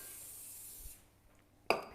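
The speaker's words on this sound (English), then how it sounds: "Spray your tray." Cooking spray hisses onto a baking tray in one steady burst of about a second, followed after a pause by a sharp metallic clink of the tray being set down.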